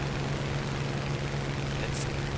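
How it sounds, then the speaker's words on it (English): A Spitfire Mk XVI engine runs at full power in the War Thunder flight game, a steady, loud droning roar with a low hum underneath that continues without a break and without talk. "Full power to the engine."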